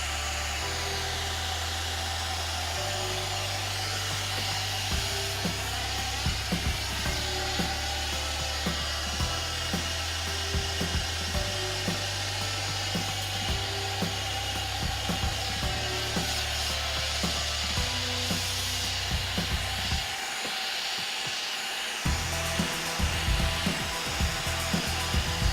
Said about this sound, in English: Any torch left in place for too long will erode base metal and possibly blow through.